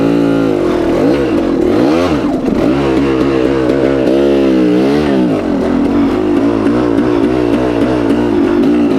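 A motorcycle engine idles and revs steadily after the bike fell off a rock on a trail ride, its loud harmonic drone rising and falling in pitch, close up and continuous with no talk.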